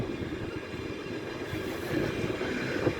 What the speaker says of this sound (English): Also approaching the middle line is the 1524 1 Delta 18 LNER service from London King's Cross to Leeds